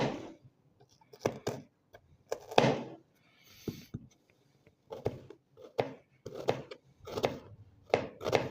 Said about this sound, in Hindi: तो प्याज की कटिंग कर लेंगे